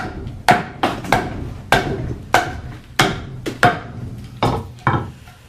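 An axe hews out a walnut bowl from a log in about a dozen sharp, hollow-toned chops, close and fairly loud, falling in an uneven but steady rhythm.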